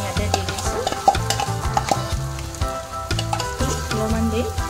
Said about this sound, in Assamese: ঘিখিনি গৰম হৈ গ'ল আৰু মই এতিয়া ঘি কাবাবখিনি ইয়াতে দি দিছো